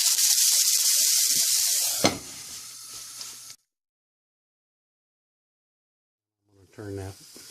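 Water poured into a hot covered pan of frying Boca burgers, a loud close steam hiss and sizzle that bursts sharply then cuts off, followed by silence and a brief voice.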